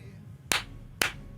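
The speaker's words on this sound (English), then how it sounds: "Oh, that was a very loud clap." Two sharp, loud hand claps about half a second apart during a live card-break stream, each a sudden bright burst standing out over quiet room tone.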